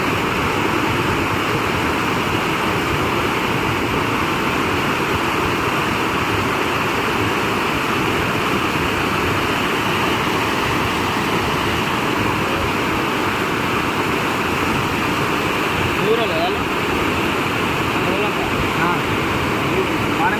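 Floodwater of the Munneru river in Telangana pours over a dam, a loud, continuous roar of falling water that stays steady and unbroken throughout.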